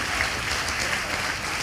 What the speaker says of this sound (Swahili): Tuwapigie makofi mazuri kutoka headquarter